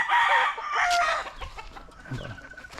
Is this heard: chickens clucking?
yes